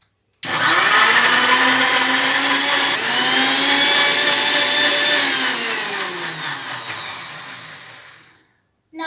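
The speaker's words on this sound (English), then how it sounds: "put it in the juicer" Loud motorized whirring of a juicer running steadily for several seconds on pumpkin and water, pitch shifting slightly as it churns, then cutting off abruptly.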